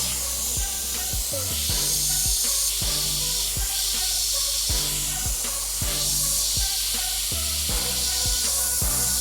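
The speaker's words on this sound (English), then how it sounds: "Now I'm kind of dotting with the airbrush." An airbrush dots rust-effect paint along model edges, giving a loud, steady hiss with rhythmic low thumps pulsing underneath throughout.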